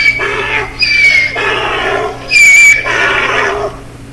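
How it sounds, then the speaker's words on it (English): A donkey brays loudly and close by in a repeated hee-haw pattern, with about four rising and falling calls separated by short gaps. "let's listen to a donkey bray"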